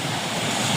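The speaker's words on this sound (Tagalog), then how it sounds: "Alon." Sea surf churns under strong gusting wind, a steady loud wash of breaking waves with wind buffeting the microphone throughout.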